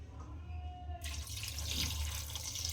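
Water gushes steadily into a pot of goat tripe (boti) for boiling, a continuous splashing pour that starts abruptly and keeps running close by.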